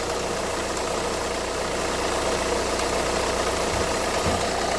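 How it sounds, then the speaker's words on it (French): A diesel car engine with a Delphi injection pump runs at a steady idle, a close, continuous rumble with a slight knocking texture and a couple of brief low thumps near the end, with no talking. "Vas-y, va dans la voiture, tu vas démarrer."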